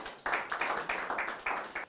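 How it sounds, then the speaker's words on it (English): An audience at a Creative Mornings talk in Lagos claps to welcome a speaker, a fairly faint run of distinct clapping bursts in a quick, uneven rhythm lasting under two seconds. "Please, a round of applause for him."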